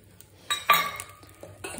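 Spoon stirring bhel puri of puffed rice, onions, tomatoes and lemon juice in a bowl, a few short metallic clinks and scrapes, close and distinct.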